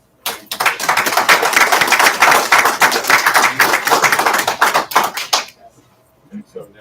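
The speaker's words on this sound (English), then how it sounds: "they are deserving of a round of applause for doing so" Round of applause for newly seated school board members at a city school board meeting, dense sustained clapping for about five seconds that then stops abruptly, with a brief voice after it.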